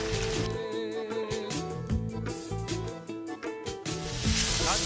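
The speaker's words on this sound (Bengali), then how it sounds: "এবার আমি এর মধ্যে বেগুনটা দিয়ে দেবো" Steady sizzling of potatoes and eggplant frying in hot oil, loud and close, with background music playing over it.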